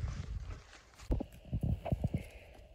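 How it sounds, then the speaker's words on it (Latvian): A pony's hooves clip-clop as it is walked in, a run of irregular, fairly close hoof steps that grow louder and busier in the second half, with no one talking. "Nu, lūk, Aleks viņu iesoļojas"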